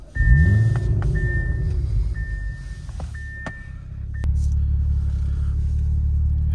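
A Nardo gray Audi RS5 Sportback with a tuned factory exhaust starts up close by with a sharp cranking rumble, then settles into a steady low idle, with a few electronic chimes from the car overhead.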